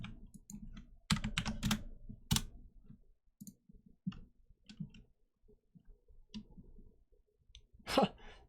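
Close, faint typing on a computer keyboard, with irregular clusters of key taps and clicks separated by short pauses, a brief louder flurry near the start and a soft breath toward the end.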